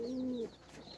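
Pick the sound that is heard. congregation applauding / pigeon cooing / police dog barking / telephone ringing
pigeon cooing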